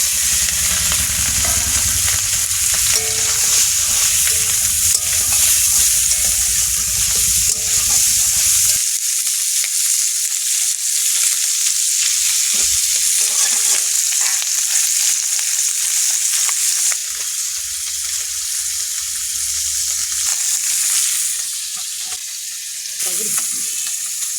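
Steady sizzling of food frying in hot oil, loud and close, with occasional stirring scrapes and no talking.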